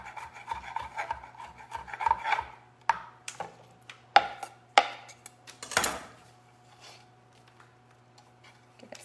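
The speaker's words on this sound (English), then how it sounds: "so this one I'm just gonna cut up" A knife cuts up food on a cutting board during preparation of a fall harvest steak salad with Brussels sprouts and cauliflower, giving a handful of irregular sharp chops and scraping strokes, close by and with no talking.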